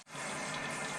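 Tap water runs steadily and fairly loud into a sink while a child's hands are washed, a continuous close gush with no talk over it.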